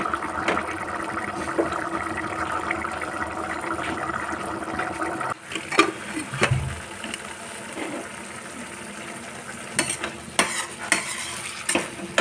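Methi and potatoes cook in a pan over a slow flame, a steady sizzle and simmer with repeated scraping stirs of a spoon against the pan, louder clatter in the second half and no voices.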